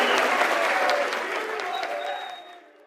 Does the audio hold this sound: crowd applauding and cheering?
yes